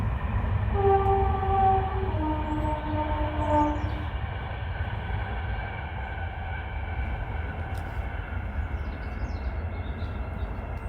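A train rumbles past near an apiary, a loud continuous roar of wheels and carriages with a horn sounding in sustained tones early on, then a steady rolling drone without voices.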